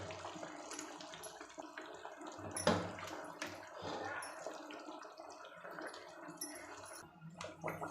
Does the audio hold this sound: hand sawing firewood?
no